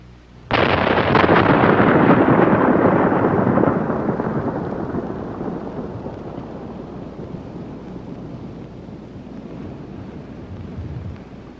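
Primer cord detonating in 61 shot holes to blast craters outdoors near Flagstaff, Arizona: one sudden loud boom followed by a long rumbling roar that slowly fades over several seconds.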